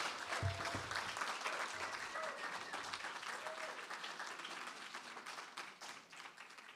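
Audience applause follows a faculty presentation, a steady wash of clapping that fills the room, with a few faint voices and cheers mixed in.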